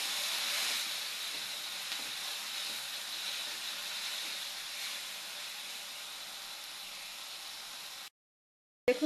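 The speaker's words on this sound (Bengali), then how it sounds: "আর নেড়ে চেড়ে টমেটোটা একটু ভাজা ভাজা করে নিব" Tomatoes with green chilli and salt fry in a pan, giving a steady, even hiss that fades slightly over several seconds before cutting abruptly to silence near the end.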